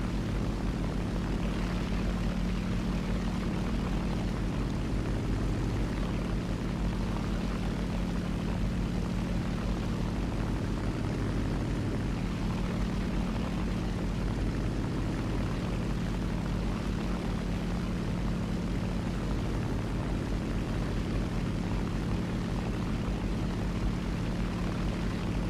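A propeller plane in War Thunder drones on with a steady, unbroken engine hum and airscrew buzz, even and continuous for the whole stretch.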